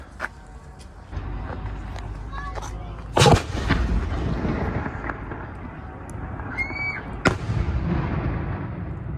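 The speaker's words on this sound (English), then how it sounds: "they're going to shoot the firework up here" Fireworks for Ramadan in a Bosnian city bang at a distance, several sharp booms spaced over the span with one louder burst, over a steady outdoor background hum.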